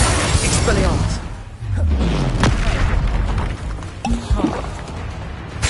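Hogwarts Legacy spell effects: loud booms, shattering cracks and whooshing impacts in quick succession, with a voice speaking over the dense game combat.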